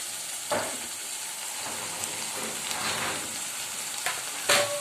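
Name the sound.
chopped dill leaves added to frying pan, sizzling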